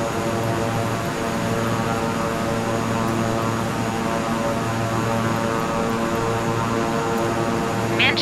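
Inside Microsoft Flight Simulator 2020, a Beechcraft propeller aircraft gives off a steady, even engine drone with a constant propeller hum and no talk over it.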